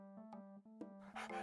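A cartoon dog gives a few short, clipped barks and yips, with a burst of breathy panting at the end, all close and clear.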